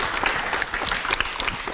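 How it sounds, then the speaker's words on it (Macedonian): A short burst of clapping breaks out in a classroom science demonstration after an experiment separating iron from sulfur. The many hands give a dense, even patter that lasts under two seconds. "треба да заслужува еден аплауз"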